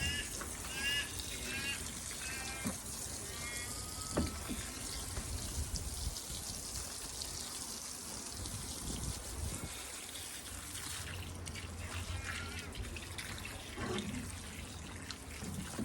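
Water trickles and pours steadily into the reservoir of a wicking garden bed for a long stretch, low and soft, with faint rustling and occasional clicks nearby.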